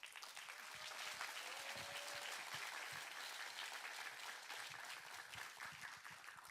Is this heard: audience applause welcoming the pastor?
yes